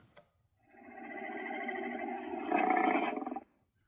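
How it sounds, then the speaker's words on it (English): A single sustained monstrous terror dog growl from a HasLab Ghostbusters ghost trap toy, rumbling for about three seconds, swelling louder near the end before cutting off abruptly. "the sound effects of terror dogs are just random, like, monstrous grunts"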